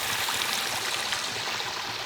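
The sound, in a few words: small creek flowing through a culvert under a road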